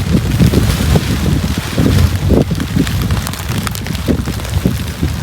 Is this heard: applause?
no